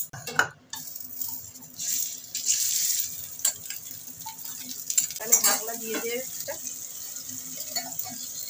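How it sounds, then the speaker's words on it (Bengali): Boal fish is fried in mustard oil in a hot wok, with a soft sizzle broken by clinks and scrapes of a utensil against the pan. The sounds are close, with faint talk in the background. "কড়াইটা খুব ভালো করে গরম করে নিয়েছি, একটু সর্ষের তেল দিয়ে দিচ্ছি"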